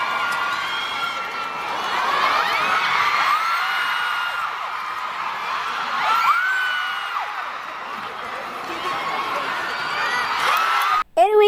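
Lively crowd at a PVL volleyball game, some fans carrying balloons, keeps up a steady wash of cheering, whoops and shouts across the whole stretch, with louder surges and a sharp burst near the end.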